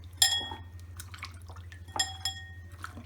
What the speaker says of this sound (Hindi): इस तरह से हम करेले को पानी में डालेंगे